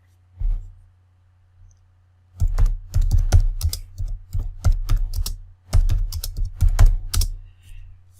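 Close, crisp keystrokes on a computer keyboard come in quick bursts of typing, separated by short pauses of near silence.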